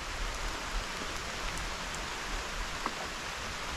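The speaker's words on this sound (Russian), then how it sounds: "Шум воды, бьющий по веткам деревьев и по траве." Steady, dense rain pattering on tree branches and grass in a forest, a continuous hiss of drops with a few louder splats, no voices.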